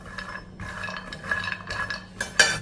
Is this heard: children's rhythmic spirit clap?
no